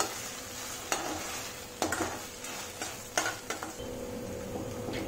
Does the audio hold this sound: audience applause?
no